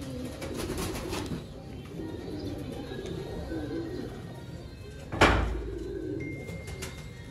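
Soft, low cooing of pigeons, including a male, in a noisy background with a murmur of voices, broken by a sudden loud thump near the end.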